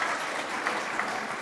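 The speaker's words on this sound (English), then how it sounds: "You can clap for them." A church congregation claps briefly, a short burst of dense, even applause from a room full of people.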